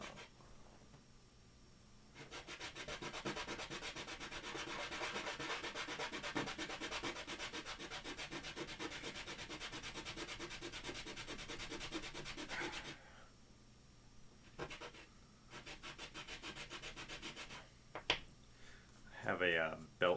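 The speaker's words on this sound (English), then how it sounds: "everyone can just sand them down to the size that they need" A mod part is sanded by hand in a long, steady stretch of close, rhythmic rubbing strokes lasting several seconds, followed by a few shorter scrapes and brief handling noises near the end.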